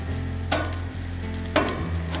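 Tortillas sizzle and bubble in a hot pan, a steady loud frying hiss broken by two brief sharp crackles, with no voices.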